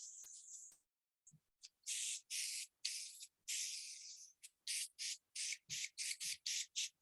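A hand spray bottle spritzes water over Yupo paper during a watercolor demonstration: close, crisp hissing bursts, one long spray, then a quick irregular run of short squirts with brief silences between.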